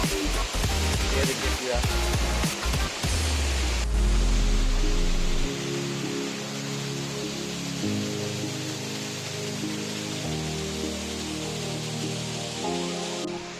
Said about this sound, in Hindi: ये कुमेली घाट का वाटरफॉल